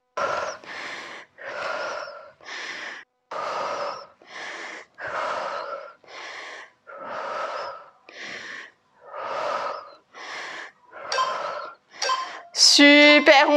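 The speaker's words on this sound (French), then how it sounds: "Soufflez bien." Forceful breaths puffed out in a steady rhythm during a home HIIT cardio workout, about a dozen loud close exhalations roughly a second apart, ending in a faster, harsher burst.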